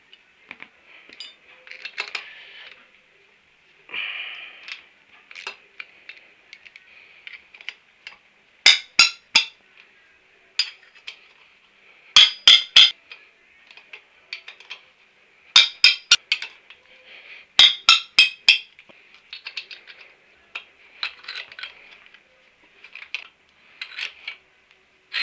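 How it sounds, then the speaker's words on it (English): Wrench work on the cylinder head bolts of a 9-stud Triumph T120R motorcycle engine: bursts of sharp metallic clicking and clinking in quick clusters, close and fairly loud, separated by quieter shuffling handling noises. "Going to go for the head bolts."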